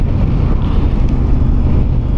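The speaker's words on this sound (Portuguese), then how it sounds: "Esta parte aqui de cima faz um cagaçal bruto com o vento." Wind roars around a worn motorcycle helmet while riding a CFMoto 450 MT, a loud, steady, low buffeting rumble that fills the whole clip.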